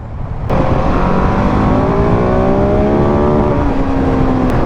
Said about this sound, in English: I feel like this bike does hit red line pretty quick.